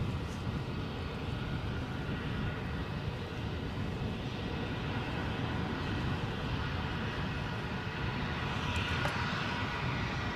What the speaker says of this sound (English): Looks like we've got another British Airways aircraft going to hove into view.